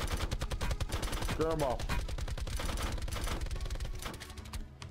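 Dense automatic gunfire in an online shooting video game, fast repeated shots running continuously under excited voices calling out during a fight over loot.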